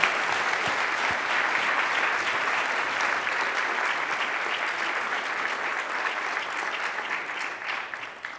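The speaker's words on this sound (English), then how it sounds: "when everybody starts clapping" Sustained, loud applause from a large audience at a cure fundraiser event in Scottsdale, Arizona, a dense, even clapping that fills the whole stretch with little change in level.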